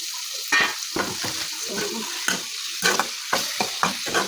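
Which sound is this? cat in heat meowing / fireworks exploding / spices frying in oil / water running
spices frying in oil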